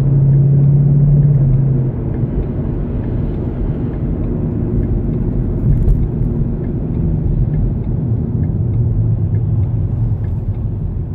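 A Ford Mustang on the road gives a steady, loud low engine and road rumble that runs without a break from start to finish, with no talking.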